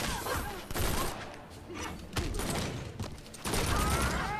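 Gunfire from the Injustice: Gods Among Us fighting game, with rapid bursts of shots and mechanical clanks in several dense, loud clusters throughout, punctuated by heavy thuds.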